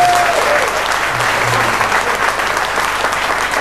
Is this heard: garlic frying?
no